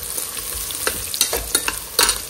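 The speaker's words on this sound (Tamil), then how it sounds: "ஆனியன் வதங்கிடுச்சு" Onions sautéing in a pan, a steady sizzle broken by several sharp scraping stirs with a spatula, close and moderately loud with no talking.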